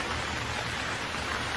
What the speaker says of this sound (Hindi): हर तरफ जंगल में काले बादल छा जाते हैं और बारिश होने लगती है